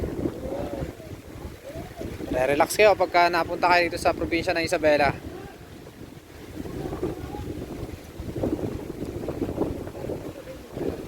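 Strong wind buffets the microphone in a steady roar, with someone speaking briefly over it in the middle, at a mountain viewpoint in Cordon, Isabela, Philippines.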